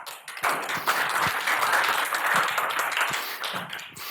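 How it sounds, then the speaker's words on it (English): Audience applause at a WordPress tech talk, a steady wash of many hands clapping that swells quickly and holds at an even, moderately loud level without voices on top. "Please give him an applause"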